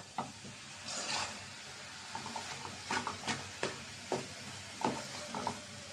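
Greens fry in a wok and are stirred with a spatula: a soft constant sizzle broken by repeated scraping strokes against the pan, close and fairly rhythmic.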